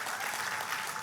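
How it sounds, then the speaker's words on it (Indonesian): Church congregation clapping during a sermon, a dense, steady wash of applause from many hands that fills the whole moment without pause. "Tepuk tangannya pula yang paling meriah buat Tuhan"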